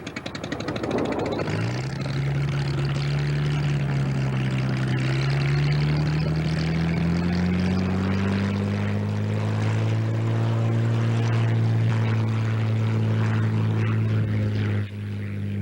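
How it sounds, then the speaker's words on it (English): A Cessna light aircraft's propeller engine drones loud and close, its pitch rising as the engine revs up and then holding a steady throbbing roar before cutting off sharply near the end. "Lotus Airways' fleet of 2 Cessna light aircraft provides short hops to the nearest airport and beyond."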